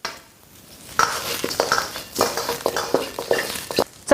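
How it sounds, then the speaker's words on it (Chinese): A wok of pork bones frying in melted lard with ginger and scallion is lifted and shaken, giving close, irregular metallic clanks and scrapes over a soft sizzle. "把锅拿起来，这样晃动，才能让它受热均匀"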